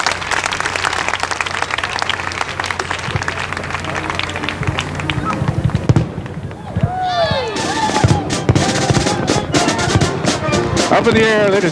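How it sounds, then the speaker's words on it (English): Fireworks at a 1991 National Victory Day parade burst with loud popping crackles and whistling rises over crowd applause and noise, the bangs dense and continuous throughout. "Up in the air, ladies and gentlemen, the fireworks."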